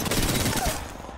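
Rapid gunfire in a video game, a dense burst of overlapping shots that fades slightly toward the end, loud and heard without talk.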